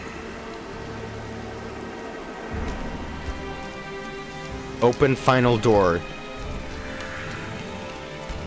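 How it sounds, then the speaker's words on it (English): Steady rain in a video game hisses throughout with low rumbles, while a voice speaks briefly over it near the middle. "As she awakened, the rain fell again."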